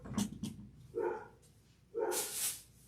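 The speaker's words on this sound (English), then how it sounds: "There goes some dogs." Dogs bark in several short, moderately loud bursts at an uneven pace, ringing out with no one talking over them.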